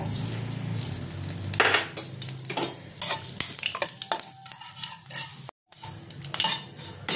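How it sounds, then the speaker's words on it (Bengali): Dried red chili, panch phoron and black mustard seeds sizzle in hot oil in a pan, a loud close crackle with sharp pops and metal scrapes as a spoon stirs, briefly cutting out near the end. "এবার আমি ফোড়নটা দিয়ে দেবো এই শুকনো লঙ্কাটা ফাটিয়ে দিলাম, দিয়ে দেবো এই পাঁচফোড়ন আর কালো সর্ষেটা"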